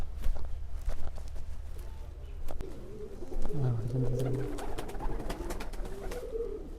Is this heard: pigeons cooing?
yes